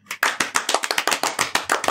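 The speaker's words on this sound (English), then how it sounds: "Can we have applause soundtrack?" Short burst of hand clapping played as a comic applause effect, a quick run of about a dozen sharp, evenly spaced claps, close and dry, with no talk over it.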